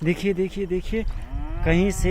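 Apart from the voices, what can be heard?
calf mooing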